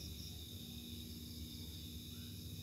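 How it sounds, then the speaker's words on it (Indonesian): A Sharp single-door refrigerator whose light works but which is not cooling has its compressor running. It gives a faint, steady low hum with a thin high whine over it, constant throughout with no talk. "Ini kompresornya dengung ya"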